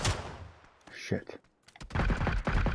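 Gunfire in PUBG, with sharp rapid bursts of shots near the start and again in the second half, plus a player speaking over the shots.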